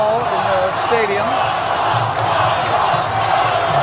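A stadium crowd cheers and roars for a politician at a political event, a dense, sustained wash of voices and whoops with someone speaking over it.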